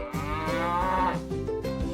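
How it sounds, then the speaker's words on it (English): Cow mooing on a farm, one long drawn-out moo that rises and swells at close range, set over soft background music. "I am a cow."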